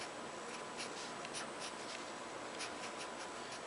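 Pen or marker writing out algebra terms by hand for a partial fractions problem, a steady soft scratching with brief strokes repeating throughout, close and quiet with no talk.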